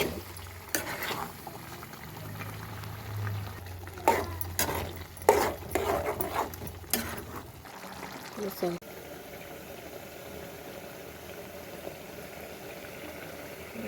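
A spoon works tomato paste into onion masala in a pan while cooking pepper chicken masala, giving a cluster of scraping clicks and soft sizzling in the middle, then a quieter steady simmer.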